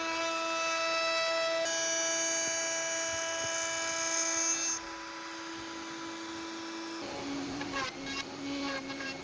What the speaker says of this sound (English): I went over to the router table and added a cheeky chamfer onto the bass and the white notes.